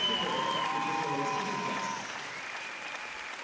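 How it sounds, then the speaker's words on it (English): An arena crowd at the Grand Prix de France 2024 figure skating women's short program applauds steadily, a broad wash of clapping that starts strong and eases slightly, with faint whistles or cheers carrying above it at a distance. "And the sound of the crowd, perhaps elated to see a #1 at the start."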